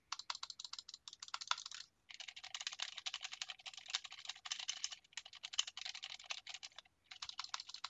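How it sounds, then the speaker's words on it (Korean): Rapid, continuous clicking of computer keys and mouse buttons, picked up through a HyperX Cloud Alpha S headset microphone, close and crisp, in busy bursts with a few short pauses. "평소처럼 정면에 있는 키보드와 마우스 버튼을 눌러보도록 하겠습니다."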